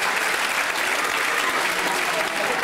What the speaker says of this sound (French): je vous demanderai de l'applaudir bien chaleureusement